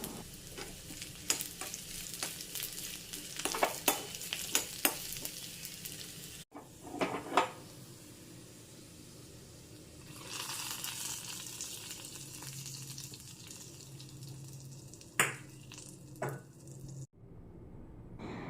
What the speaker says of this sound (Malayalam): ഇത് പൊട്ടിക്കഴിയുമ്പോൾ, കടുക് പൊട്ടിക്കഴിയുമ്പോൾ നമുക്കതെല്ലാം ചേർത്ത് കൊടുക്കാം